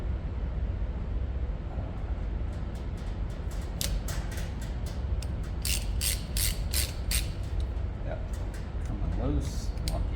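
A ratchet wrench with a 7/16 socket clicks steadily while loosening original, tight bolts on a Volvo Penta DPE upper gear head, with rapid pawl ticks close by in bursts over a constant low hum.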